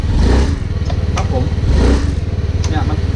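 A motorcycle engine revs up sharply twice after a clogged fuel injector has been cleaned of debris, rising and falling in loud bursts with a steady low idle between them.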